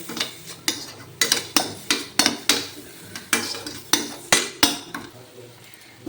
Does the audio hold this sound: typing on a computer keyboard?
no